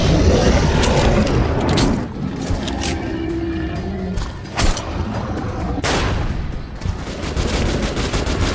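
Sustained gunfire from Metro: Last Light, dense bursts of shots and booms rolling on almost without pause, loud and close throughout, with a few sharper blasts standing out.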